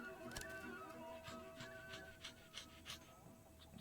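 Dog panting in the video game Yaga, quick soft rhythmic breaths repeated close up, faint and alone, with light clicks in the background.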